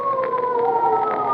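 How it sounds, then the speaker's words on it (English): A police car siren wails steadily in a sustained, wavering tone, somewhat distant and muffled. "Hey, police sirens."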